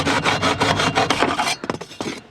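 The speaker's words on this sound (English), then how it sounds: "take a hacksaw and just simply cut these two tubes off" A hacksaw cuts through two heater core tubes sticking out of the firewall of a Dodge Ram, a close, steady back-and-forth rasping of strokes that breaks into a few shorter, halting strokes at the end.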